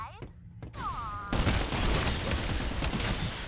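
Rapid video game gunfire bursts in a chaotic shooter firefight, loud and continuous after a brief lull, with a voice talking over the shooting.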